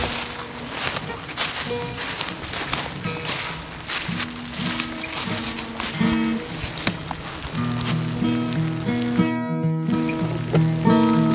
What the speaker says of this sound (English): So typical April weather for New York. It's raining